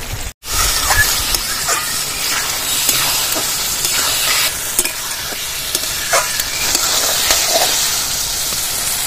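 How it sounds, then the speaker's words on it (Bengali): Spice masala sautéing with fried potatoes and chopped tomatoes for a tel koi fish curry, a steady close sizzle and frying hiss with repeated scraping stirs, no talking. "মশলার মধ্যে ভেজে রাখা আলুগুলো দিয়ে ভালো করে কষিয়ে নেব। কেটে রাখা টমেটো দিয়ে দেবো।"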